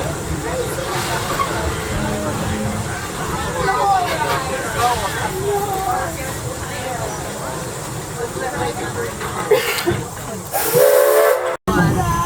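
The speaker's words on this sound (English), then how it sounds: "Remain seated till you hear that whistle." Edison steam locomotive at Greenfield Village gives a loud, hissing steam whistle blast near the end, following a stretch of busy crowd chatter and train rumble.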